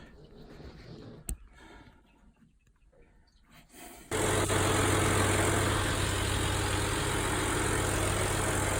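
An old steel yacht's engine just after repair starts partway through: a quiet, muffled stretch with one sharp knock, then a loud, steady, close mechanical roar that runs unbroken to the end.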